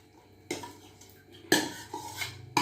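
Metal clatter and clinks of a utensil against a pot as cooked mutton pieces are added to masala, in a few sharp bursts, close by and moderately loud, with no talking.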